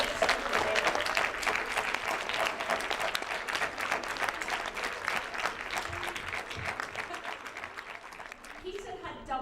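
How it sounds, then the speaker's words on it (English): A school audience at an interschool debating final gives a sustained round of applause, dense clapping from many hands that holds steady and then thins toward the end as a voice comes in. "Peter, can I ask you to stand up and take the round of applause you"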